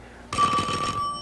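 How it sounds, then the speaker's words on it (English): Old telephone bell ringing in a single short burst, close and fairly loud, with no voices over it. "Telephone."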